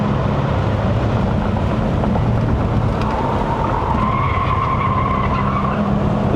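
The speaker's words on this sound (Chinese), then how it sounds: "一直叫轮胎。" A 2012 Audi S8 with a 4.0L bi-turbo V8 and all-wheel drive corners hard on a mountain road, its tires squealing continuously and loudly over the engine roar and road noise.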